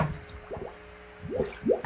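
Dirty fish water from an aquaponics tank is poured into an empty gallon jug, giving a few soft, squishy glugs and drips in quick bursts, close and fairly quiet.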